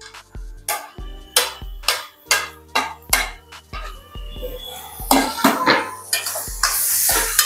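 Ginger and garlic masala being sautéed in a pan for mutton kaima, with repeated sharp scraping strokes of a spatula against the metal in an irregular rhythm over a growing sizzle, close and clear.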